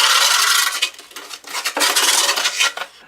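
A screwdriver rasps and scrapes across skateboard grip tape in uneven strokes, a gritty, bright scratching that pauses briefly between passes with no talk.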